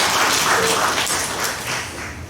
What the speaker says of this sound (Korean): 하나님의 영광의 박수로